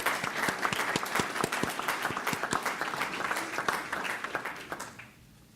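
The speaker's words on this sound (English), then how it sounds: "So just give another hand of applause for them." An audience applauds a group of youth being recognized, with loud, hearty clapping that includes some distinct near claps before fading away at the end.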